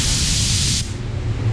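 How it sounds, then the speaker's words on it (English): A spray gun set to 26 psi hisses loudly and close while laying PPG base coat on a BMW, a steady burst that cuts off after under a second, leaving low background noise. "26 psi is usually what I spray the base at"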